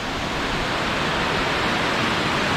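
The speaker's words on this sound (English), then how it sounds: "We're going to get real close to this waterfall." A waterfall at Mill Creek Park in Youngstown, Ohio roars up close, a loud, dense, continuous rushing wash of falling water with no pauses.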